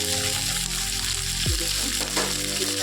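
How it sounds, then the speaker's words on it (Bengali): Dhenki fern greens drop into a pan of nearly fried potatoes for a Bengali dish, and a loud, steady oil sizzle surges and shifts as they hit, with stirring scrapes close by. "এবার আমি ঢেঁকির শাকটা দিয়ে দিলাম।"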